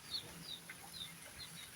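A newly hatched brood of chicks with their mother hen, heard as faint, high, repeated peeping with soft low clucks close by.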